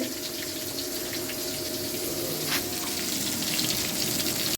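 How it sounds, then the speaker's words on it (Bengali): Eggplant slices fry in a hot pan with a loud, steady, hissing sizzle that continues for a few seconds and then cuts off abruptly. "আমার বেগুন ভাজা করতেছি গরম গরম পোলাওয়ের সাথে"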